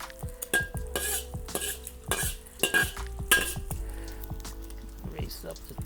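A frying egg stirred with a spoon in a wok, giving repeated scraping strokes of metal on metal over a soft sizzle, close and fairly loud.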